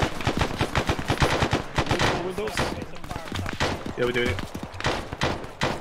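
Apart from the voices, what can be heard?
gunfire in the video game ArmA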